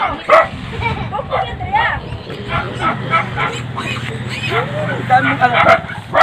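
Several dogs bark and yip in short bursts, some whimpering, while people talk over them nearby.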